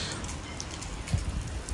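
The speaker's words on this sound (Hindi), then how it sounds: "हल्की हल्की बारिश" Light rain falling on a street in Berlin, a steady soft patter of drops on surfaces with faint low rumbles underneath, continuous and gentle throughout.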